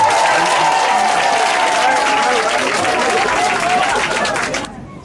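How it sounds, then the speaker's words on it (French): A large crowd at a village chiefs' gathering applauds loudly and steadily, a dense wash of clapping with voices mixed in, fading out at the end. "On applaudit ça pour nous maintenant."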